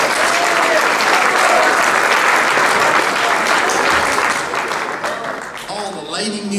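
A large crowd applauds a golf team at a high school athletic banquet, loud sustained clapping that thins and tapers off near the end.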